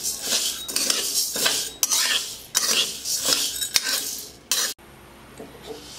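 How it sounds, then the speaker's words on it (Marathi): Bajra, green moong, urad dal and masoor dal dry roasted together in a pan, the grains rattling and scraping with rhythmic metal stirring strokes against the pan until they stop and only a quiet hiss remains. "बाजरी, हिरवे मूग, ही उडदाची डाळ, ही मसूरची डाळ, यांचा आकार आहे ना सारखा आहे म्हणून यांना सोबत भाजून घेऊ।"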